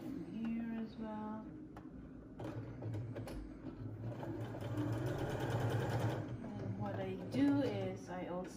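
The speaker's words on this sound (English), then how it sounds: "Stitch them here as well." A sewing machine stitches a homemade fabric face mask, its steady mechanical whir running in stretches at close range while someone talks over it.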